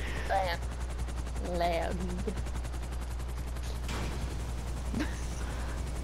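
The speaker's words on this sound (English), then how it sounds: "Why are you shooting at me?" Grand Theft Auto V gunfire rings out in short bursts around helicopters and a runway, under a steady rotor-like throb, while players talk and laugh over it.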